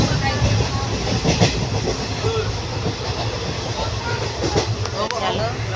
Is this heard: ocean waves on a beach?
no